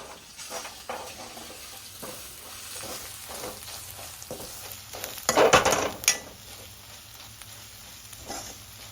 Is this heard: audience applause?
no